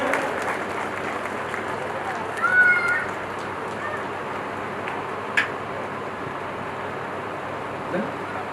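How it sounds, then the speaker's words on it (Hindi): An audience claps at a ceremony with a minister present, giving a sustained wash of applause at moderate volume while a voice carries over it. "जोरदार तालियां बजाइएगा सर"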